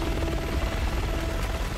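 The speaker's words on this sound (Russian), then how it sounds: "Вертолет улетает." A steady, loud helicopter rotor drone from Resident Evil 6 fills the whole stretch, a dense whirring roar with a low thrum and no clear change in distance, no talk over it.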